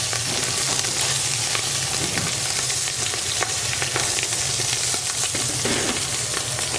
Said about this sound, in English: Hear them sizzle.